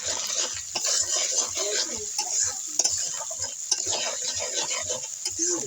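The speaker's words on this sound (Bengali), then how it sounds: "কিছুক্ষণ নেড়ে চেড়ে মিশিয়ে নিচ্ছি" Spices fry in a pan, turmeric and salt among them, under a light sizzle while a utensil stirs and taps in quick, irregular clicks, close up with no speech.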